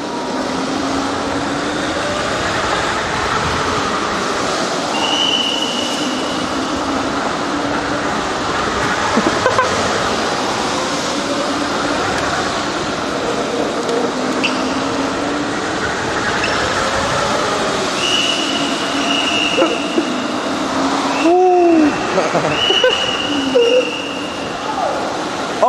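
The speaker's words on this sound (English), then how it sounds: "Let me follow the train." A loud, continuous rumbling roar of a passing train in a video game with rattling and squealing, wind-like noise throughout, and brief raised voices mixed in.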